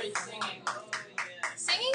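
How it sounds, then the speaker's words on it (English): Students in a classroom clap in short bursts, about seven uneven volleys, close by. Voices and calls of noise mix in with the claps. "clap or make noise if you are an actor or actress"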